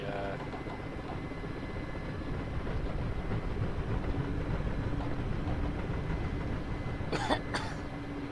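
In the flight simulator DCS, a steady low rumbling drone fills the background, and near the end someone gives two quick coughs close by.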